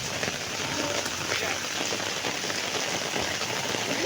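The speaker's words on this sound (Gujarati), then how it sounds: "પાછું વરસાદ બહુ જ જોરમાં પડતો છે યાર" Heavy rain falls in a constant broadband hiss of drops striking surfaces, with a faint voice briefly audible beneath the downpour.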